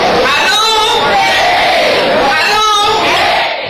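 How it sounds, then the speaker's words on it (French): A jubilant crowd welcomes election candidates at an outdoor campaign rally, roaring and cheering loudly and close by in a sustained swell of massed voices. "C'est une foule en liesse qui a accueilli ses candidats et leurs messages."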